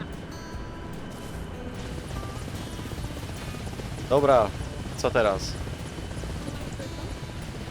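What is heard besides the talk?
Russian helicopter flying, from video game ARMA Reforger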